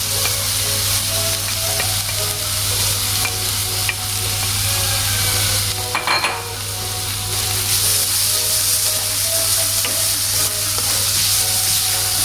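A ground coconut and onion masala is stirred in a frying pan, with a steady loud sizzle and scraping under it throughout, with no talking.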